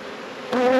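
Honeybees buzz around an opened farm hive during an inspection, a dense close drone that swells louder and rises in pitch near the end.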